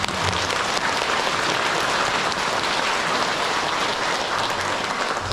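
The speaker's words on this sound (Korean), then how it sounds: "큰 박수 좀 부탁드립니다" Congregation in a Catholic church at an Easter Mass applauding, a dense, steady round of clapping from many people that holds at one level throughout, with no talk over it.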